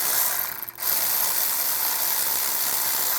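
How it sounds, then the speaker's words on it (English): A 10mm socket ratchet loosens a bolt on a power steering gear, giving a steady, close, rapid clicking that runs for about three seconds with one brief pause near the start. "Now we're going to take this nut out on the power steering gear. Use a 10mm socket."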